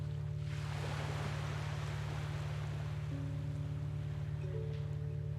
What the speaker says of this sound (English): hearing the ocean waves